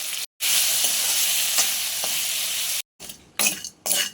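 Naleru (veld grape) frying in a pan, a loud, bright close sizzle that cuts out abruptly twice, then returns in short bursts with stirring noise and no talk.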